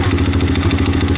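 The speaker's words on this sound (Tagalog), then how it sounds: "Good job pa rin yung motor ko talaga" An old, still-stock 2005 motorcycle with a holed exhaust idles close by, its engine putting out a rapid, even, thumping putter with a rattly edge and no talk over it.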